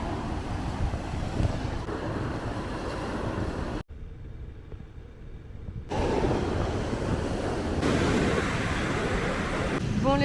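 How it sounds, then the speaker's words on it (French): Surf at Playa de la Arena beach in Tenerife rumbles as a broad, loud wash heavy with wind buffeting, briefly dropping quieter mid-clip before the roar returns. "Non mais les vagues là."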